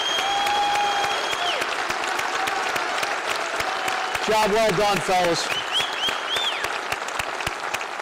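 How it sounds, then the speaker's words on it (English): Applause at a Marine Corps awards ceremony honoring two retiring colonels: steady, dense clapping from a large crowd fills the whole stretch, with a voice speaking over it and whistles and brief cheers rising midway. "Could I ask you all to give those two colonels a round of applause?"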